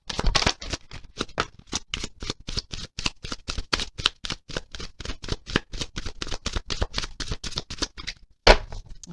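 A deck of animal medicine cards shuffled by hand for a tarot reading, a fast steady run of crisp riffling slaps at close range, ending with one sharper knock, no talk.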